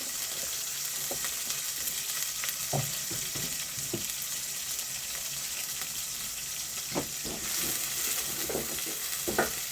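Onions frying in a pan for a mrenda dish, a constant close crackling sizzle with soft, occasional stirring taps underneath.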